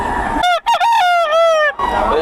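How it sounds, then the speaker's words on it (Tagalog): A rooster crows once, close and loud, a long drawn-out call with a rising and then falling tone, cutting through brief outdoor background noise at a rural fowl sale. "Yan ang tilawak ng manok."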